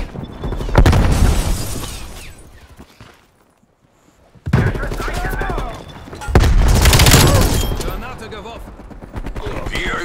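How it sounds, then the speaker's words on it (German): A grenade blast and rattling gunfire fill a Call of Duty Black Ops Cold War team deathmatch, with loud dense volleys, a brief near-silent lull, then heavy firing resuming, with voices mixed in. "Granate geworfen"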